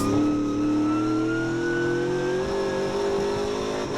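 The No. 69 race car's engine roars during a second race on track, a loud continuous near drone with pitch slowly climbing as it accelerates, no voices over it.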